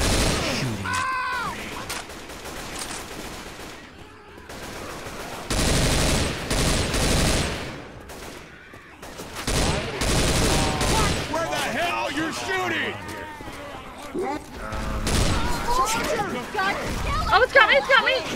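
Bursts of gunfire from a zombie co-op shooter game come in several loud volleys separated by quieter gaps, with players talking and shouting over the action throughout.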